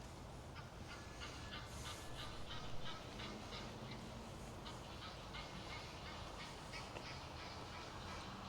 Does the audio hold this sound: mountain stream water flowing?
no